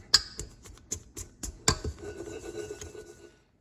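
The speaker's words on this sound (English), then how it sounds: "Use our pastry blender to mix the butter and the flour till it's like coarse crumbs." A pastry blender cuts butter into flour in a mixing bowl for fruit tarts, giving several sharp metallic clicks and taps followed by soft rubbing and scraping, close and fairly quiet.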